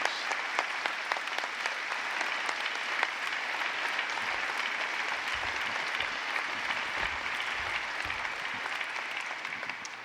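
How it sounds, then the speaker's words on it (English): Thousands of people at a Remembrance Day ceremony in Saskatoon give a sustained ovation, a steady, even roar of applause that holds for the whole stretch and tapers slightly at the end. "And the ovation continues."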